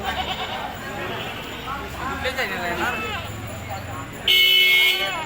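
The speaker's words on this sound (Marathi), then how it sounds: "भरपूर शेळा मेंढ्या आलेल्या आहेत मुरगुड बाजाला" Sheep and goats bleat repeatedly amid a busy crowd at a weekly livestock market in Murgud, people talking over them, with a sharp vehicle horn honking near the end.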